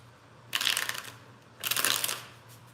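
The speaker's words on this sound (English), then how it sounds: "3 more shuffles." Tarot cards shuffled by hand in two short, crisp riffling bursts, each about half a second to a second long, close to the microphone against a quiet background.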